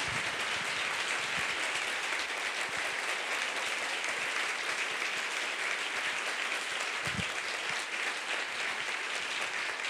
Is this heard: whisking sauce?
no